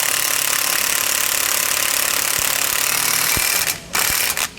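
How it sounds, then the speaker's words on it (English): Power tool tightening the bolts on a rear anti-sway bar end link of a 2016 Ford F-53 gives a continuous harsh buzzing rattle, close and loud, then cuts out in two short gaps near the end. "We can now go back and tighten down our bolts."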